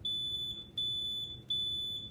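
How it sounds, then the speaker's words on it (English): A smoke alarm beeps steadily at a high pitch, its continuous tone briefly interrupted twice at regular intervals, loud and close over a low background hum. "This is a smoke alarm."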